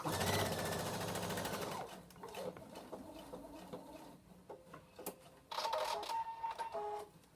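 A sewing machine stitches fabric flat near a corner, whirring in close, rapid bursts: a long run at the start, a broken stretch of short stitches, then another sustained burst before it stops.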